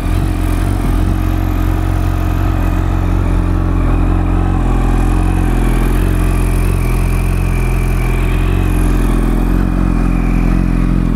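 A used Yamaha R1 sport motorcycle engine runs steadily at idle, a loud, close, continuous rumble with a faint mechanical rattle and no talking.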